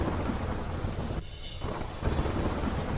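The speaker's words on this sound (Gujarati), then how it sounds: "પવનના સુસવાટા સાથે ધોધમાર વરસાદે કરી એન્ટ્રી" Heavy monsoon rain pours down with wind gusts and rolling thunder, a dense steady roar that dips briefly before returning loud and continuous.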